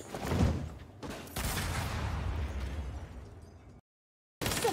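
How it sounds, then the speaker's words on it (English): A minigun fires in the video game Saints Row as loud, dense bursts of rapid gunfire, cut by a short break and then a full silence before the firing resumes. "Is that a fucking minigun?"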